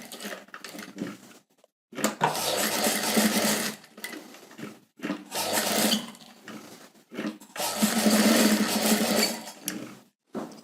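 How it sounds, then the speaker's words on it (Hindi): Sewing machine stitching around a blouse neckline in bursts, fast mechanical whirring runs separated by short silent pauses, close and clear with no talking. "तो ये जो शेप है वही शेप के अकॉर्डिंग ½ इंच की एक जैसी ही दूरी पे स्टिचिंग लगानी है।"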